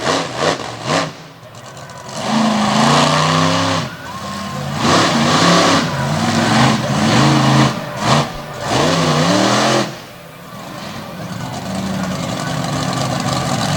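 A monster truck engine roars and revs loudly through a freestyle run at a Winchester monster truck show in 2021, with repeated surges and drops in pitch before it settles to a steady, rumbling drone.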